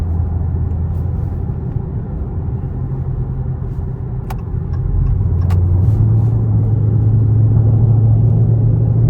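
A four-cylinder car engine rumbles steadily close by, a low even drone that rises slightly in pitch and loudness partway through as if revved, with no talking over it.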